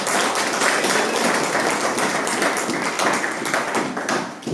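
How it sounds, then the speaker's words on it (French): Audience applause in a church gathering, a dense, lively burst of many hands clapping close by, holding steady for several seconds before easing off briefly. "Ouais, on t'applaudit, vas-y."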